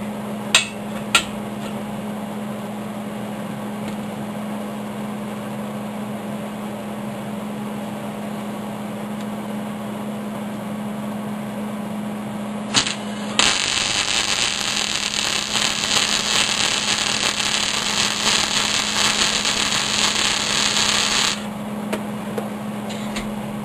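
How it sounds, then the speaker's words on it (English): Welding the center point of a small steel mini woodstove: after a couple of sharp clicks, a steady electric hum gives way to a loud, even hiss and crackle of the arc lasting about eight seconds, then stops. "we're going to start by welding"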